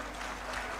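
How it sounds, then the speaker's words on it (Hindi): Brief, faint, steady applause from a conference audience at the Arts Council of Pakistan, distant and diffuse. "तालियां ज़ोर से बजाओ ना यार।"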